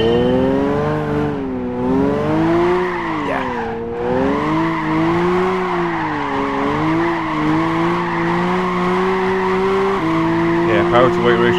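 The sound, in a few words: Nissan Silvia S14 drifting on track in Gran Turismo 5 video game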